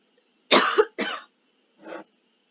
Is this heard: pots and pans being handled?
no